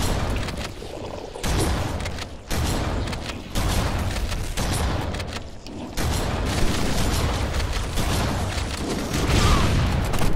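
Bursts of rapid gunfire and booming shots from Halo: Combat Evolved as enemies return fire, loud and choppy with brief gaps between volleys, no voices.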